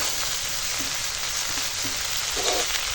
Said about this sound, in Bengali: এখন এখানে মটর দিয়ে দেবো